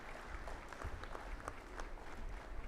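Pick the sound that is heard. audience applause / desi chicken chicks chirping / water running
audience applause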